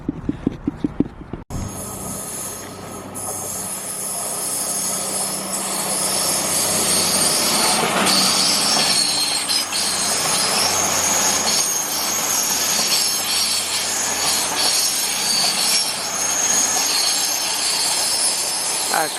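A passenger train bound for Sheffield rolls past with wheels squealing loudly on the rails, a sustained screech over rumbling carriages that lasts most of the time, after a brief opening of clicking.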